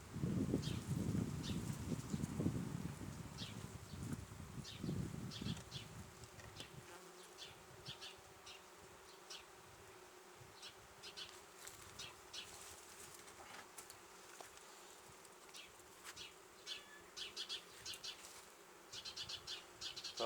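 A dense, steady buzz of many honeybees fills the air around an open hive, loud at first and then settling into a continuous lower hum with brief wing flicks.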